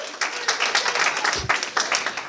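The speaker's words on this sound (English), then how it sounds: "can we give Diamond, Lorianne Hayes a round of applause?" Audience applause at a business opportunity meeting, a steady burst of many hands clapping close and fairly loud for about two seconds with no talk over it.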